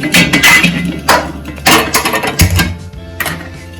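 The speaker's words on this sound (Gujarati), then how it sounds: "તવી ગરમ કરવા મૂકી દઈશું અને મીડિયમ ગેસની ફ્લેમ ઉપર રાખીશું" A griddle (tava) is set down on a gas stove while masala rotalo is prepared. Loud metallic clanks and scrapes come close by in uneven bursts, with no voices.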